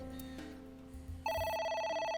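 A telephone rings in the video game AI The Somnium Files, a bright electronic trill that cuts in partway through over soft background music and then holds loud and steady until the clip ends.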